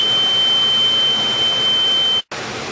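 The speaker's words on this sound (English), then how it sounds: "that was my smoke alarm that went off" A smoke alarm sounds in a home kitchen as a steady, shrill high-pitched tone over background hiss, holding for about two seconds before cutting off briefly and leaving only low noise.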